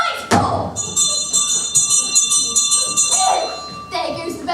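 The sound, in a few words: school bell ringing for afternoon games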